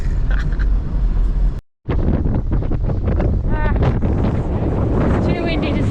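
Strong wind buffets a microphone on a boat at sea, producing loud continuous rumbling roar with a brief dropout, while voices talk over it.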